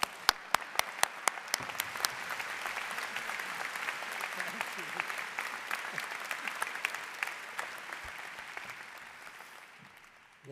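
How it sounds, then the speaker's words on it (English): An audience at a University of Michigan Rackham graduate ceremony applauds a speaker's introduction, starting with sharp, distinct claps and swelling into sustained clapping that gradually fades toward the end. "With a rounding applause"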